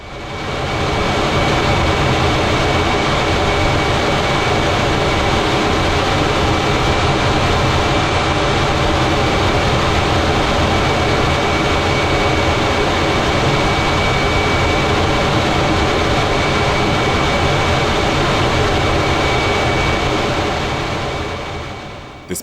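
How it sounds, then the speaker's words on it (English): A Harrier jet's engine produces a continuous broad roar that holds steady during aerial refueling and fades only at the very end. "While this Harrier jet was practicing aerial refueling, the refueling hose began leaking fuel."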